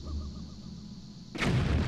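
A bomb goes off in The Legend of Zelda: Wind Waker HD, a sudden loud booming blast that follows a stretch of quieter low game ambience and hum.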